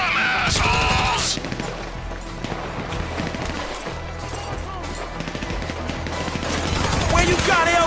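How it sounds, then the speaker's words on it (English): Gunfire in Grand Theft Auto 5 crackles as dense, overlapping bursts under a busy mix of game sounds, while voices speak over the shooting. "Laying down fire!"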